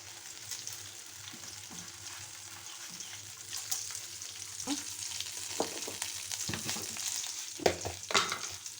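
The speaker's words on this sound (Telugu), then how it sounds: "ఇలా కొంచెం ఇందులో మినపప్పు వేస్తున్నాను" Urad dal fries in hot oil for a cucumber chutney tempering, a steady close sizzle with occasional pops and scraping stirs growing busier toward the end.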